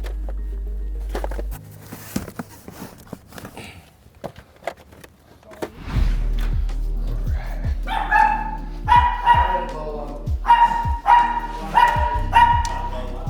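A dog barks several times in short bursts, fairly close, over a steady background hum with some mechanical whirring.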